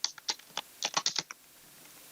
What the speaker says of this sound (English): let's type in a few numbers.